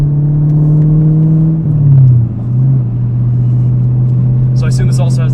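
A Chevrolet Camaro ZL1 with an always-open aftermarket exhaust, heard from the cabin as a loud, deep, steady engine drone with a brief swell in revs, while occupants talk near the end.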